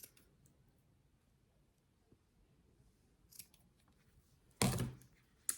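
Scissors snip through strands for a Santa ornament's beard in a quiet room, a few faint clicks followed by one louder, sharp close cut near the end.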